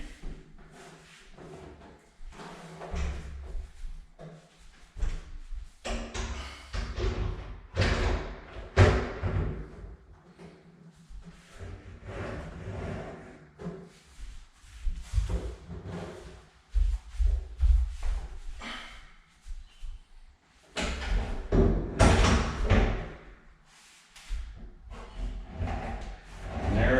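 Closet doors being fitted in a house under renovation: repeated thumps, knocks and sliding scrapes come in irregular bursts over half a minute, close by, with pauses between.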